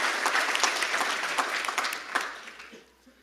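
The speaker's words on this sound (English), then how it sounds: "I want to give an applause and thanks to all of our partners" Applause from a keynote audience at COMPUTEX, a broad crowd clapping that holds steady and then fades out near the end, without speech over it.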